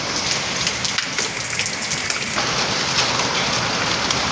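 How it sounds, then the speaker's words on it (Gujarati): Heavy rain pours during a thunderstorm as a dense, steady, close hiss of drops hitting surfaces, with no distinct thunderclap standing out. "એકદમ વીજળીને કડાકા સાથે વરસાદ વરસી રહ્યો છે"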